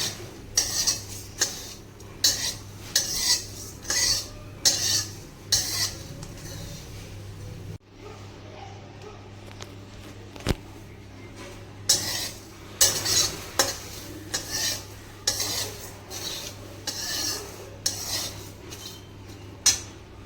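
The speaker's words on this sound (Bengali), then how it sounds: "মশলাগুলো ততক্ষণ পর্যন্ত ভাজবো যতক্ষণ এই মশলাগুলো থেকে একটা সুন্দর গন্ধ না ছাড়ে।" Whole spices dry-roasting in a pan for a spiced potato and pumpkin curry, with a spoon scraping and stirring in repeated bursts of rattling and faint sizzle, close and fairly quiet.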